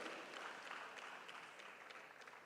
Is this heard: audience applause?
yes